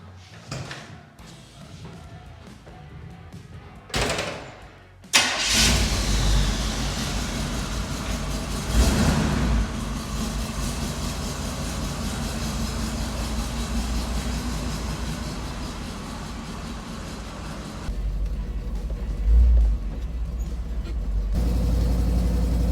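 Engine of a 1984 GMC van starting after reassembly, then running and driving on a test drive: a few clunks, the engine catching, then a steady loud rumble with road noise, heard close from inside.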